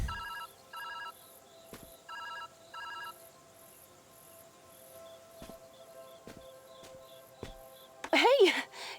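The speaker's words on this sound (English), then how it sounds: "Phone's ringing, dude." A telephone rings inside a video game, sounding as short repeated electronic double bursts spaced a second or two apart, fairly quiet, with a brief louder noisy sound near the end.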